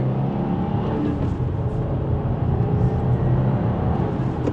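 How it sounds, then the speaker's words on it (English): 2025 Subaru WRX tS accelerating hard from second gear, heard from inside the cabin: a steady, loud engine drone with a rising hum throughout, without talk. "And with another acceleration from second gear"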